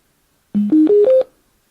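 An AUKEY Bluetooth speaker plays its power-on tone: four short, loud, clean beeps stepping upward in pitch in quick succession, heard alone with silence before and after.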